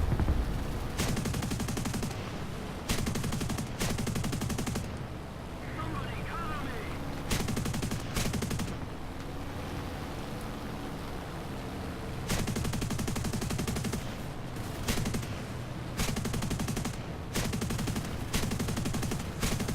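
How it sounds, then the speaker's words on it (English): Aircraft machine guns firing in the War Thunder video game, with long bursts of rapid gunfire separated by short pauses over a steady engine drone, alongside some talking. "we're just down to the machine guns now"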